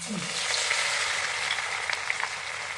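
Garlic frying in hot oil in a pan for masala chivda, a steady close sizzle with faint crackles and a few light stirring scrapes throughout.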